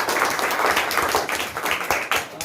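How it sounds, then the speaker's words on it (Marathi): Audience applause at a handwriting workshop (Anandghan Sanstha handwriting camp), welcoming the visiting teacher: dense, steady clapping from a crowd of many hands, fairly loud and continuous, with no talk over it. "आपण सर्वप्रथम सर्वांचं जोरदार टाळ्या वाजवून स्वागत करूया"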